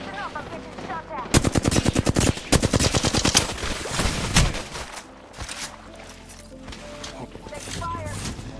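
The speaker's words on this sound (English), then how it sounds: "Listen up, I'm getting shot at." Rapid automatic gunfire bursts from the video game Apex Legends, loud and dense in the first half, then sporadic shots and game effects continuing under a player's talk.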